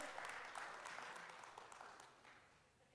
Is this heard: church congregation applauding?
yes